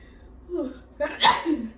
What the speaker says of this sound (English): Sneeze, bless me.